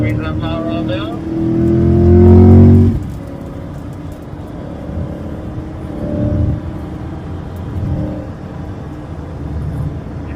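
A C8 Corvette ZR1 engine revs up loudly and accelerates on a race track, rising in pitch before cutting back, then a steady motor drone continues under speech.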